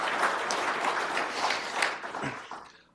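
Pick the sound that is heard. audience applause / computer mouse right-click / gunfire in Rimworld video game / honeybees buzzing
audience applause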